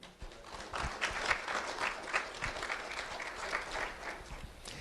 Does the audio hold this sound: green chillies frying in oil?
no